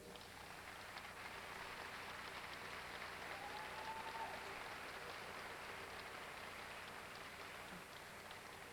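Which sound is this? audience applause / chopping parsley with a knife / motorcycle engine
audience applause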